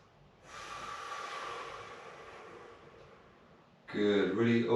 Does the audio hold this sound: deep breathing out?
yes